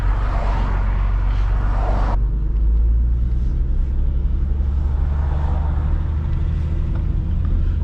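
An Infiniti G37 in limp mode, held at full throttle yet barely moving, gives a steady low engine rumble and drone; a broader noisy layer cuts out about two seconds in, leaving the deep hum alone.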